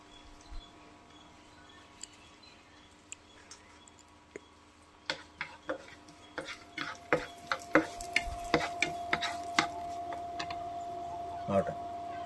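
Chopped coconut frying in a pan as part of an onion payasam, crackling with sparse pops at first that grow into a dense run of sharp spits and snaps, close and fairly loud over a steady low hum.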